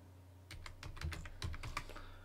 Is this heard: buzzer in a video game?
no